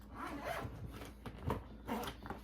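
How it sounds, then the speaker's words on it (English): A few short pulls of a luggage zipper, close up and fairly quiet, with brief pauses between strokes and no voices. "Now we'll just put that first zipper in a little corresponding slot."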